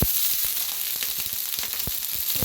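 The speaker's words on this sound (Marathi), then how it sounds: "आता त्याच्यात शिपडायचं असं पाणी." Water sprinkled onto a hot, oiled griddle for dosa crackles with a constant close sizzle and rapid scattered pops, and no one speaks.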